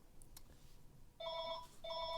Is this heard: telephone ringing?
yes